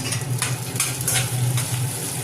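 Onion petals and chopped green chilli stirred in a hot pan for soya bean Manchurian, a steady close sizzle with soft scraping strokes of the spatula, no voices.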